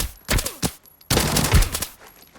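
An MP5 fires in the video game Arena Breakout: two sharp, close automatic bursts, a short one followed by a longer rattling string, with a brief pause between.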